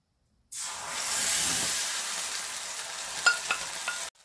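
Kochuri filling mixture hitting hot oil in a wok, a loud sudden sizzle that starts abruptly and holds as a steady hiss, with a few scraping stir clicks near the end.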